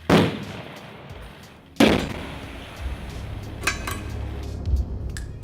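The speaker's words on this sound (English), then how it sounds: "walked through the mined area in the middle of explosions and fire" Two sharp, loud explosions in a minefield about two seconds apart, each followed by rumbling debris, then scattered crackles and thuds.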